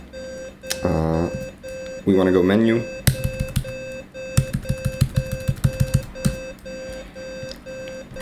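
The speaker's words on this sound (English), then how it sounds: "Now we get this beeping. I apologize for the beeping." Repeated electronic beeps in quick bursts from the video game Xenogears, some fast and rhythmic like an alarm, with a person speaking briefly over them near the start.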